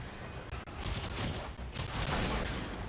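Rapid gunfire from the sci-fi shooter Warframe fills the mix, dense overlapping shots with steady loud bursts and brief dips, no talking over it.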